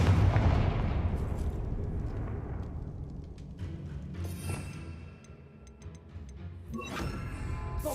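Loud video-game blasting spells, Confringo and Bombarda, go off in a rapid series of booming explosions and crashes that leave rumbling, crackling debris sounds between the blasts.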